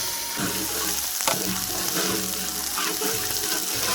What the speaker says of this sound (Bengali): পরিমাণ মতো সরিষার তেল এতে পেঁয়াজ বাটা লঙ্কা বাটা রসুন বাটা